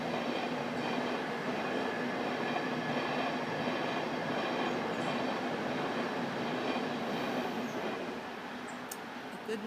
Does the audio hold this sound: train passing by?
yes